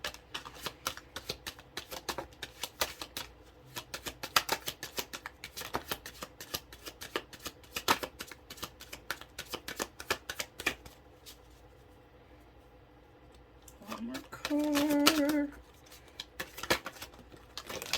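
Tarot cards shuffle in quick, crisp riffles and flutters, close and continuous for several seconds, followed by a quieter pause and a short tonal hum before more card handling.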